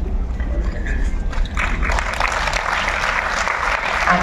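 An audience at the Malhar Utsav music festival applauds. Dense, continuous clapping holds steady at close range for about four seconds, with no speech over it.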